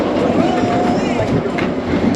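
Expedition Everest roller coaster train at Disney World runs along its track with a steady loud rumble and rushing wind noise, heard from onboard, with a faint rising whine and voices mixed in.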